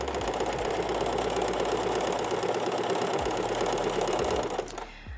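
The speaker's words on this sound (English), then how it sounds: "My personal machine, doesn't like me to go too fast when I'm doing this twin needle." A home sewing machine stitching a twin needle hem on a curved garment edge, running in a fast, steady mechanical whir with rapid needle clatter, close and loud, then stopping abruptly near the end.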